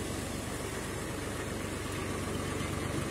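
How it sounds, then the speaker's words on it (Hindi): A Power 439 tractor engine runs steadily while driving a 10 HP water pump motor outdoors, a loud continuous idling drone with a constant throbbing rumble and no pauses. "देख सको रहे ट्रैक्टर चल रहा है जी पावर 439 ट्रैक्टर है"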